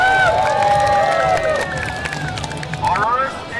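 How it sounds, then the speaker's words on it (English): A loud crowd at a gaming event cheers and claps together, with raised voices and shouts riding over scattered clapping, then the noise eases slightly toward the end. "Let's get some round of applause."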